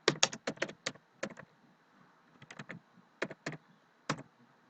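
Someone types a search query on a computer keyboard, tapping keys in short irregular clusters with quiet gaps between them, close and crisp with no talk.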